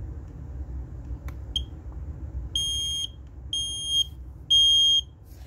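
A First Alert HB6135FB smoke alarm is being tested, giving a faint chirp followed by three loud, sharp, high-pitched beeps, each about half a second long and evenly spaced, over a low background hum.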